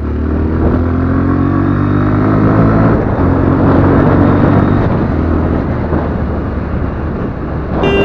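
A BS6 Bajaj Pulsar 125 motorcycle pulls away from a start, its engine note climbing loud and steady through several gears for the whole stretch, with rising harmonic tones and no voices.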